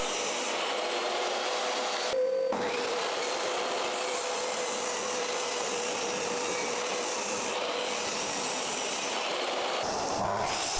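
A table saw cuts the corners off small wood pieces, a loud, steady broadband roar with a faint humming whine running close by for the whole stretch, briefly dipping near the start and again near the end, with no talking.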